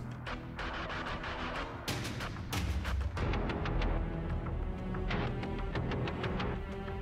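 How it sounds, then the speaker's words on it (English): Explosion effects in a Dota 2 animation previs of a meadow explosion with a Hellstorm Golem: a continuous barrage of loud booms and crackling blasts, with sharp bursts repeating over a dense rumbling bed. "June 19th, Meadow Explosion Previs."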